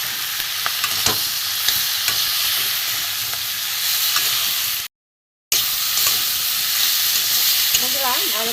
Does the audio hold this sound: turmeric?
yes